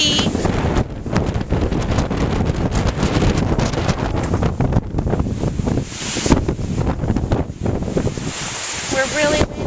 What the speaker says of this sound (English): We're really windy. We've got a lot of wind now.